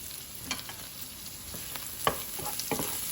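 A vegetable and egg omelette mixture stirred in a pan, with scattered spoon scrapes and clicks over a steady sizzling hiss, close and fairly loud.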